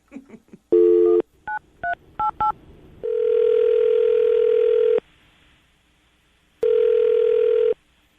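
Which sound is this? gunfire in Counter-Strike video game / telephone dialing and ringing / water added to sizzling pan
telephone dialing and ringing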